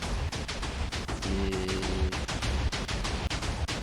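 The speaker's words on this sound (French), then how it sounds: "Donc, voici la mitraillette à TNT" A TNT machine gun fires in a Minecraft-style game, a rapid loud series of explosive bursts in fast irregular rhythm with a short tonal hum partway through.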